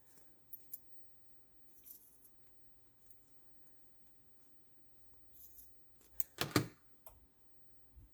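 Scissors snip into the fabric corners of a sewn teddy bear arm, stopping short of the stitching: a few quiet, scattered clicks early on, then a louder cluster of close snips near the end, with no talking.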